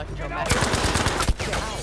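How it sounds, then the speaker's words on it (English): Rapid machine-gun fire in the Battlefield V Nordlys map, a close burst of quick repeated shots that lasts about a second amid game ambience. "Oh, that's just a machine gun."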